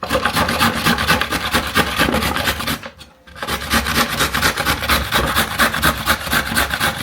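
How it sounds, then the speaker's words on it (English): A hand grater shreds fresh coconut for coconut flakes in a loud, continuous rasp of rapid strokes up close, with one brief pause partway through and no talking. "So this is my grater."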